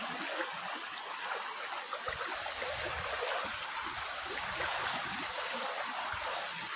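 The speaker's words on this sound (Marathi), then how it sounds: "हा थंड थंड पाणी आहे एकदम गारगार" Cold water rushes steadily along a rocky stream on an open plateau in the Konkan, a continuous close, even wash of flowing water with no voices.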